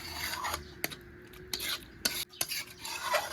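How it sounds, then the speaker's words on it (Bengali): Whisked yogurt being stirred into a chana masala spice paste, a close sequence of rasping scrapes and sharp spoon knocks against the pan, with no speech. "এবার টক দইটা ভালো করে মিশিয়ে নেব"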